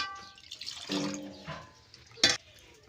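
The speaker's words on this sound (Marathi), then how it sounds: "आता अंदाजानुसार त्याच्यामध्ये पाणी टाकता" A short splash of water poured into a pot of fenugreek leaf curry on a wood-fired stove, followed by light dripping and a brief clatter of cookware.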